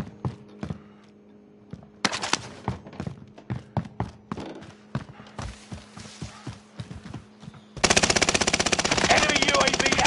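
Gunfire in Call of Duty: a string of sharp single shots followed by a sustained, loud burst of automatic fire at the end.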